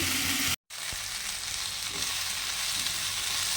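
Shrimp with Malabar spinach, eggplant and potato sautéing in a pan, giving a steady, fairly loud sizzle that breaks off for a split second early on and then carries on evenly.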